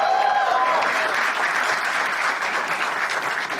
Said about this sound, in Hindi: एक बार जोर ताली for the band, everyone.